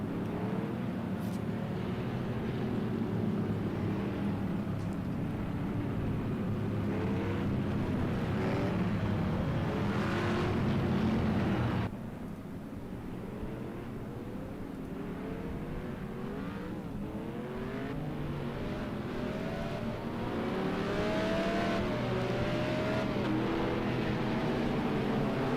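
Race cars roll through a formation lap at Bathurst in Project CARS 2, engines droning and revving steadily with several cars passing and shifting pitch, a sustained engine roar that dips briefly midway then builds again, no talk.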